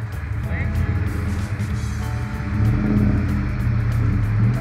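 Car engine idling steadily nearby, rising slightly in level partway through, with people talking over it.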